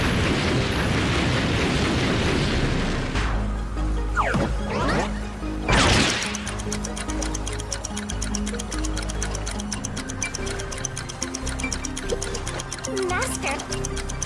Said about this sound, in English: It's about to explode!